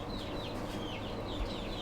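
Barred chickens, about two dozen, in a chicken tractor, give repeated soft clucks and calls close by over a steady background hiss.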